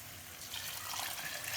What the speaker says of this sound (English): and then I will add in my water